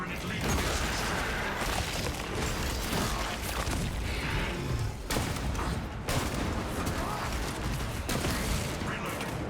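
Sustained automatic weapon fire from a servo gun build in Space Marine 2 roars dense and loud almost without pause, with booming impacts and brief breaks, and a voice occasionally speaking beneath the barrage.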